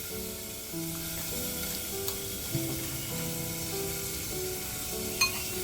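Mushroom chilli sizzles in a pan as it is stirred together with ketchup and soya sauce, a steady frying hiss with a faint scrape or two from the spoon.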